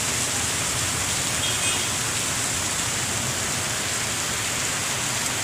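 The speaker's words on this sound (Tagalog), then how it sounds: "Habang malakas yung ulan." Heavy rain pours steadily and loudly, a dense continuous hiss with no breaks and no voices.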